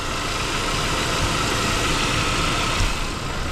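A Saab 9-5 Aero engine idles steadily and smoothly with no rattles or surges, fitted with a new alternator belt, heard fairly close and without talk.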